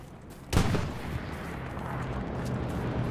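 A single sharp report from a weapon in the World War II shooter Hell Let Loose cracks out near the start, followed by a lingering rumble and low battlefield ambience, with no talking over it.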